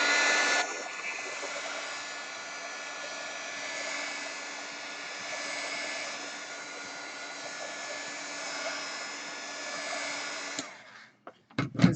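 A hair dryer blows on artwork in a continuous, even whooshing whir for about ten seconds, then cuts off and is followed by a few faint knocks and handling sounds.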